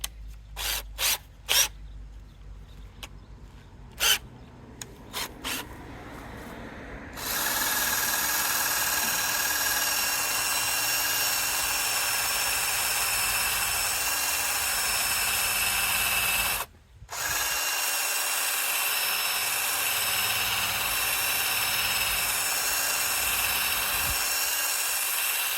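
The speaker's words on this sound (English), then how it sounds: "I picked up this little pinstripe wheel at O'Reilly's. I'm gonna try to get this pinstripe off of here." A pinstripe removal wheel spun by a drill strips the pinstripe from a 2002 GMC Sonoma truck, with a loud, steady whirring grind running a long stretch after some scattered taps, briefly cutting out once before resuming.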